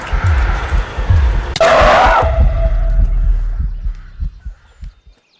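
A heartbeat effect in a horror game modpack thumps in low repeated pulses, interrupted by a sudden loud burst of noise that fades away as the beating continues faintly.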